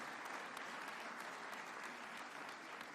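An audience at a formal event with the Kenyan president gives a sustained round of warm applause, dense and even throughout, moderately distant, with no voices over it.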